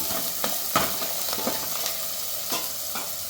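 Sliced onion with ginger and garlic fries in a pan for chilli chicken, a constant close sizzle with occasional soft taps and stirs of a spoon, no voices.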